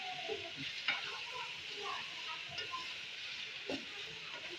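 Beef qeema with crushed red chili fries in a pan under a faint, steady sizzle, with soft scraping and tapping of a spoon as it is stirred at a low level.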